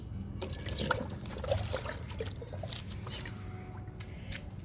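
Liquid fertilizer poured onto a small flowering plant, a faint close trickle and soft splashing dribble with light squishy wet sounds, fairly quiet throughout.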